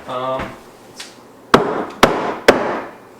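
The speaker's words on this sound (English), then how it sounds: "Screw it and nail it in." A hammer drives nails into a king stud in a window rough opening, three sharp, loud wooden blows about half a second apart. A short voice sound comes first, and a faint tap is heard before the strikes.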